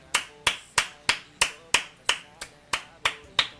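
Hands clapping in a steady rhythm, about eleven sharp close claps spaced roughly a third of a second apart, crisp and bright with quick decay and no talking.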